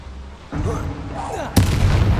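Bombarda and Confringo spell explosions in the video game Hogwarts Legacy: a low rumbling stretch of battle noise, then a sharp, loud, full-bodied blast near the end that keeps booming afterward.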